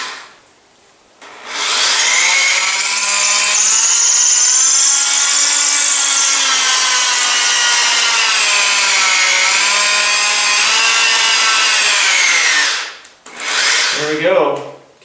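A drill bores through wood to make a fire piston, a loud high whine that runs steadily for about ten seconds, then stops, followed by a brief rough scrape as the bit is pulled back out.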